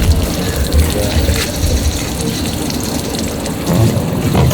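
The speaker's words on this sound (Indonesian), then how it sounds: "Belakangnya siram lagi." Water gushes and splashes steadily as it is poured over a body during a corpse-washing practice session, loud and continuous with slight surges in flow.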